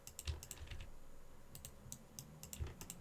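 Computer keyboard keys pressed while using Blender shortcut keys in 3D modelling software: a close series of irregular, crisp clicks, some single and some in quick pairs, with no talking.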